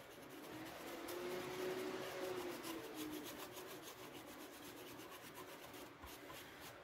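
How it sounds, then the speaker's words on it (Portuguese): Continuous scrubbing and rubbing strokes scrape steadily up close as solder residue is cleaned off a repaired antenna plug. "agora vamos dar aquela limpezinha, né? Tirar algum resíduo de solda que ficou."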